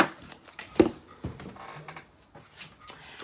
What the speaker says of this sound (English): I'm going to do 2 shuffles